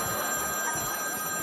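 A telephone ringing indoors, a steady electronic ring with sustained tones running through the whole moment at moderate loudness, with no one speaking over it.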